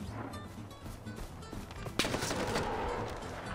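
Bursts of rapid gunfire from a video game, with a sharp louder volley about halfway through, played under voices in the background.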